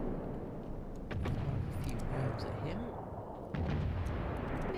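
Warship guns in World of Warships firing rounds at a destroyer, deep booming blasts and rumbling shell reports over an engine drone, with a voice talking over them.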